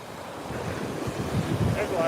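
Water rushes along a Mexican coast in a steady, washing roar, heavily buffeted by wind noise against the microphone and swelling slightly toward the end.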